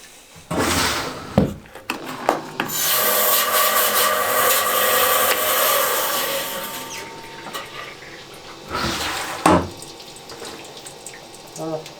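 A rock saw cuts a half-inch slice off the end of a German agate with porcelain-white banding, giving a sustained grinding whine over wet, splashing coolant, framed by brief clunks at the start and near the end.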